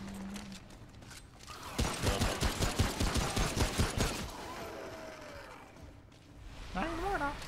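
Gunfire in Remnant from the Ashes, a sustained, evenly paced burst of rapid shots lasting a couple of seconds, followed by quieter game sounds and voices talking.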